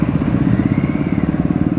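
An Aprilia RS 457 motorcycle engine runs close and loud, giving a fast, even, throbbing exhaust pulse with no talk over it.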